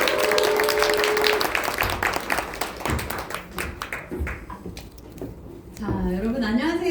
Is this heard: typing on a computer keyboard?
no